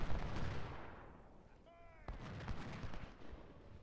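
Rifle fire from an infantry unit shooting at artillery in a Civil War strategy game set at Second Bull Run: sharp, crackling gunshot bursts at the start and again midway, over a steady background of distant battle noise.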